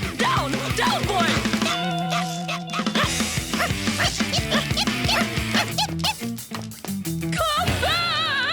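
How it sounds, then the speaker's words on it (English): Gnasher, a cartoon dog, barks and yips loudly against busy, animated soundtrack music, with whimper-like cries and rapid bursts throughout. "You horrible dog!"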